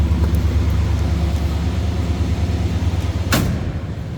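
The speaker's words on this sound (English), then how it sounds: "Door closes nicely," A 1964 Oldsmobile Cutlass convertible with a 330 V8 has its door shut with a single sharp thud near the end, over a steady, loud, low engine hum.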